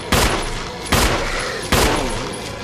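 Three evenly spaced, loud handgun shots ring out in the Resident Evil Remake HD video game, each a sharp blast with a decaying tail, about a second apart.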